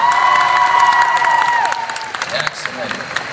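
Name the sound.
audience applause for hypnosis show volunteers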